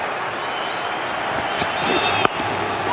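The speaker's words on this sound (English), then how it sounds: "Crowd roaring." Steady roar of a large cricket crowd at the MCG during an Australia v Pakistan T20 international, a continuous wash of noise with a sharp bang near the end, under a commentator's voice.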